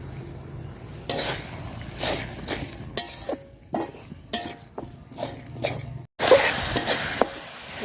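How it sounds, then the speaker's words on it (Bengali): Spice paste for chicken biryani being stirred and fried in a pot, a spoon scraping and clinking against the metal in irregular bursts over a low steady sizzle, with a sharp brief dropout near the end. "মশলাটা খুব সুন্দর করে কষায় নিছি"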